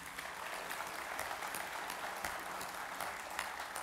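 Faint, distant audience applause at the opening plenary of the FNCCR congress in France, an even wash of many hands clapping that holds steady throughout.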